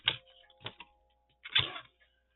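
Paper for a page topper pocket is trimmed in three brief, crisp cutting strokes, close and dry, separated by short pauses, with the last stroke the longest.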